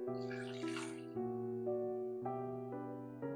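Flour-and-water mixture poured into half-tenderized meat for kunna gosht, a brief liquid splash near the start over steady background music.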